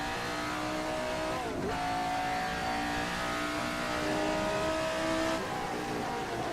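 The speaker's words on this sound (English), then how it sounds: "Some nice sounds from that Cosworth DFV." A Cosworth DFV racing engine in a Formula 79 car revs loudly and steadily with harmonic whine, a brief dip around the shift, then climbing again.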